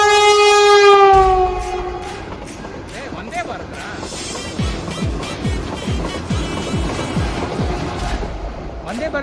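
A Vande Bharat express train rushes past near a temple route in Tamil Nadu, opening with a loud sustained horn blast and then a rapid, rhythmic run of wheel thumps as carriages pass close by, with wind rumble throughout.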